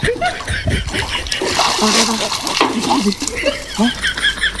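A big hooked fish thrashes at the water's surface, making repeated splashes and sloshes while people talk excitedly and laugh close by.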